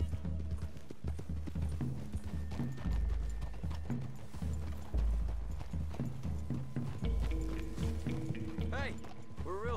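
Horse hooves clip-clop in a steady rhythm in Red Dead Redemption II, with low thuds and clatter beneath, occasional tonal game sounds layered in.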